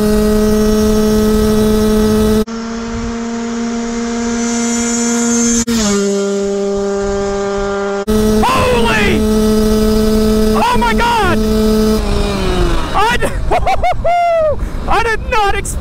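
A stock Honda CR125 two-stroke dirt bike held wide open in fifth gear at top speed: loud, steady, high-pitched engine whine that shifts in pitch, then wavers and surges near the end.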